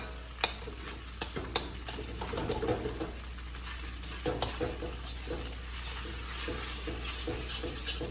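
A spatula stirs rice and vegetables frying in a pan with soy sauce and seasonings to come, giving a soft sizzle with scattered scraping clicks. Low, steady background with a faint hum.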